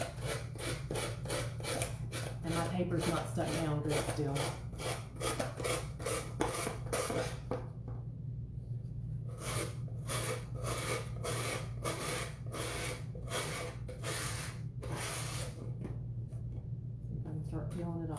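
Rough file rasping along a paper edge on a door tag to distress it, a steady back-and-forth scraping in quick repeated strokes close to the mic, with a person talking over parts of it.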